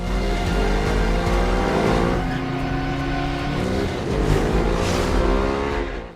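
A car engine revs hard and roars through shifting gears in a film chase scene, loud and continuous with rising and falling pitch sweeps, no talk.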